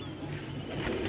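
A soft, low pigeon coo rumbles briefly and continuously, close by, with no voices.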